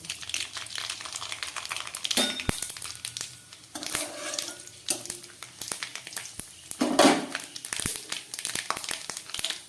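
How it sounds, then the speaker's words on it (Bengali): Dried red chillies and mustard seeds crackle in hot oil as a tempering for arhar dal, a busy sizzling spatter with sharp pops and louder bursts near the middle, close by and without voices. "আর দিয়ে দিলাম 2টো শুকনো লঙ্কা, আর দিয়ে দিচ্ছি একটু সর্ষে ফোড়ন"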